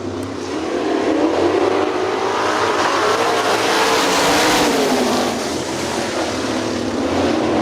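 A pack of 410 sprint cars roars off the start at Hartford Speedway, a loud, sustained engine blare that swells and shifts in pitch as the field accelerates together.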